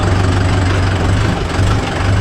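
A Mahindra Yuvo Tech Plus 585 4WD shuttle-gear tractor pulling a 42-blade rotavator, its engine running loud and close with a steady low rumble and no talking.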